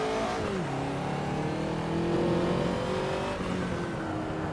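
A Ferrari 288 GTO in Assetto Corsa, its engine droning loud and close as it drops in pitch, then revs and holds steady while tires skid and scrub beneath.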